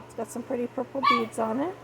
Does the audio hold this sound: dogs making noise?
yes